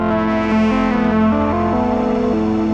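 A synth oscillator patched into an Archaea Loki filter and modulated by a second oscillator tuned to A, giving a loud, sustained, harmonically dense drone with a wavering, shifting modulated texture and no talking.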